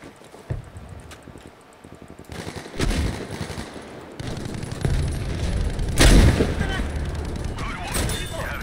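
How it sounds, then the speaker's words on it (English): Heavy gunfire and booming blasts, including a bazooka rocket being fired, in the Battlefield V video game, with a loud burst near the end standing out from the steady battle noise, while players talk excitedly over it. "Did you shoot him with a rocket?"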